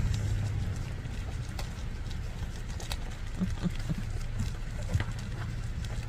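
Horse hooves clip-clop in an irregular, ongoing rhythm over a low background rumble, fairly close.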